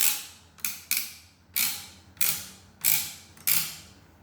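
An American Can adding machine's clearing mechanism is worked by hand to reset it, giving seven sharp mechanical clacks, each with a short ratcheting decay. The clacks come at an irregular pace, close and fairly loud, with no talk.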